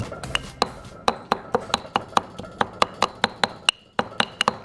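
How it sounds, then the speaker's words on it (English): Ginger and garlic pounded in a mortar and pestle into paste for Pakistani chicken karahi: a steady run of sharp, close wooden thuds about every quarter second, with no talk over them. "We drop this into the mortar and pestle. Bring this up here, and we're just gonna smash this into a ginger garlic paste."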